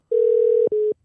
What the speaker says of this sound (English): we'll just call number 617